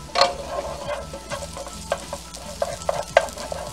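Shallots sizzle in hot olive oil for a Parmesan risotto, with a steady close frying hiss and repeated scraping stirs of a utensil against the pan.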